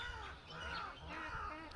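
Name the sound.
crow cawing at dusk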